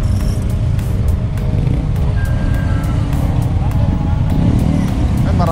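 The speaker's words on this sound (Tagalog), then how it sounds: "Ay, marami dito tricycle eh." Motorized tricycles buzz through busy street traffic, a steady loud engine drone with passing vehicles, faint beeps and people talking nearby.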